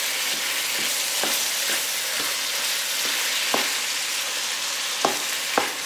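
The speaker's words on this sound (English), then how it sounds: "this ground beef is cooking up, so we are going to" Ground beef fries in a pan with a steady, bright sizzle, punctuated by several sharp scrapes and clacks of a utensil stirring the meat.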